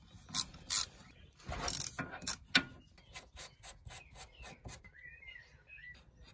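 Ratchet wrench with a 14mm socket clicking as it undoes the brake caliper bolts on a Hyundai ix35, a few heavier cranking bursts followed by a run of quick, light pawl clicks, close and fairly quiet.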